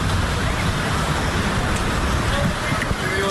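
Steady roar of street traffic and crowd noise along 6th Street in Austin, a dense continuous wash of passing vehicles heard while walking, with no clear breaks.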